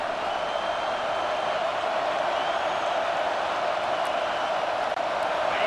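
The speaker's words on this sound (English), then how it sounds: "The roar of the crowd trying to fuel this defense to keep them pinned in their own end." Stadium crowd roaring during a college football game in EA Sports College Football 26, a steady, loud wash of cheering that holds level throughout with no distinct breaks.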